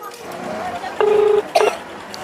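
Two short electronic keypad tones beep in quick succession, with murmuring voices and room noise in the background.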